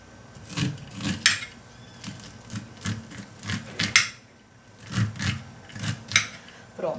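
A knife slices corn kernels off the cob in a kitchen, making repeated rasping, scraping strokes in an uneven rhythm, close and fairly clear.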